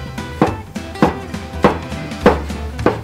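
A knife chops zucchini into small strips on a cutting board, giving about six distinct, evenly spaced thuds with crisp slicing attacks. The chopping is close and clear, with no voices.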